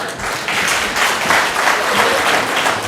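Audience applause at a Korean political speech rally, a dense sustained wash of many hands clapping, loud and continuous throughout with no break.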